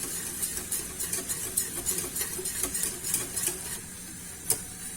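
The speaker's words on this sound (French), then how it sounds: "je vais venir avec mon fouet. Je vais mélanger jusqu'à ce que ça commence un petit peu à épaissir" A whisk stirs an apple mixture in a saucepan on the stove, giving a steady run of soft scraping and light ticking clicks with a faint sizzle underneath, one sharper tap near the end.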